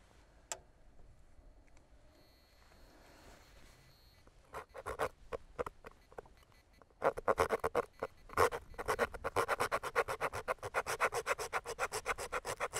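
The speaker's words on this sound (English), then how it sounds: "I may have to lift the carcass forward a little bit just to get that cut with the saw through that area." A bone saw works through a roe deer carcass, opening with a few quiet scrapes, then switching to a rapid, steady run of close rasping strokes that continues to the end.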